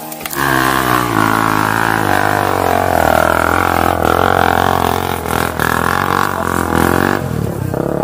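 A motorcycle strains uphill on a slippery grassy trail at San Mateo, its engine revving hard and continuously close by for several seconds.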